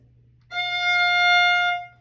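A single sustained instrumental F natural note rings clearly for about a second, bright and steady, then fades out over a low background hum.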